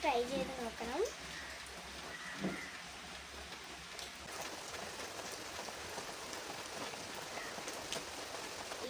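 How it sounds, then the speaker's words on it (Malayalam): Heavy rain pours steadily in a constant hiss, with a few brief voices and sounds near the start before the downpour continues alone. "ഇപ്പൊ നല്ല മഴയാണ്"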